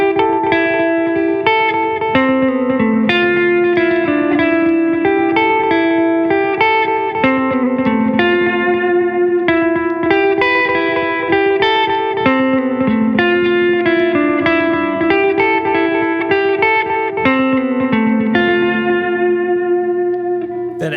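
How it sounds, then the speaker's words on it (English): Electric guitar melody through an Alexander Pedals Forget Me Not multi-head stereo delay pedal, drenched in layered, repeating delay echoes with a darkened tone, playing continuously at steady volume throughout. "I darkened the sound of the reverb, or I darkened the sound of the delays as well."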